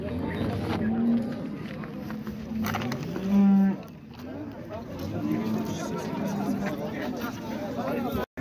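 Cattle low loudly at a livestock market in Shymkent, one long moo rising clearly above a crowd of chattering voices and general bustle, with other animals and talk continuing throughout.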